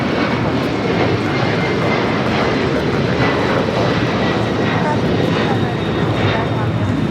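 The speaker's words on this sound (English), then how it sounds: "LATAM Airlines 2479 taking off to Lima, Peru on the 767-300ER" A LATAM Airlines Boeing 767-300ER jet roars on its takeoff roll bound for Lima, Peru, a loud, sustained broadband engine rumble with a faint whine, steady from start to finish.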